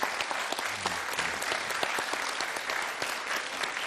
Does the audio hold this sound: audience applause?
yes